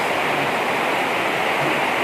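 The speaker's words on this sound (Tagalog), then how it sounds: "Lakas ng ulan." A dense, even roar of heavy rain, like water pouring down nearby, steady and loud for the whole moment.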